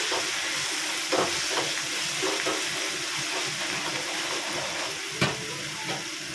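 Coriander, mint and curry leaves sizzling loudly in a hot pan with a constant steamy hiss, broken by occasional clattering scrapes of a spoon stirring, one sharper knock near the end.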